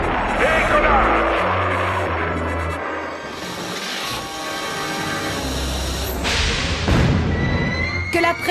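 A toy bus shaped like a compressed-air rocket launches from a tank pumped to maximum pressure: a loud, rushing rumble is followed by sharp, hissing bursts, with voices over it.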